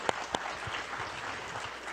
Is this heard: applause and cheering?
yes